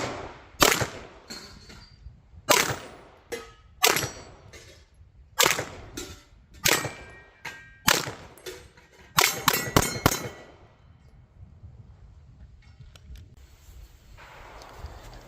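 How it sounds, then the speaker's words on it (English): Pistol shots from a Staccato XC ring a 16-inch steel gong at 100 yards: roughly a dozen sharp cracks, each followed by a faint distant metallic clang, spaced irregularly over ten seconds before quieter outdoor ambience. "we're going to shoot the Staccato XC 100 and 150 yards accurately. So right there currently, my 16-inch steel gong down there at 100 yards"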